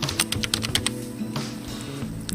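Typing on a computer keyboard while entering a password during an account registration, with a quick run of sharp keystrokes, then a few scattered taps at close range over a low, steady background hum.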